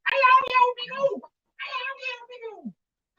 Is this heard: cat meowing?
yes